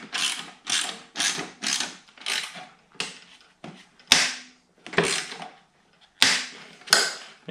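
Repeated ratcheting clicks from tightening a clamp for a Kemimoto universal slip-on muffler onto the exhaust pipe of a Husqvarna 701 motorcycle, arriving in close, loud bursts of roughly one per second with brief pauses between.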